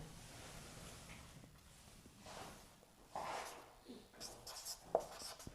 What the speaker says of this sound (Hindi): जैसे यहां पे लिखते हैं